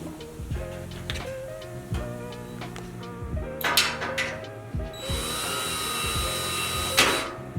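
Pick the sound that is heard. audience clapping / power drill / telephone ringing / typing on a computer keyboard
power drill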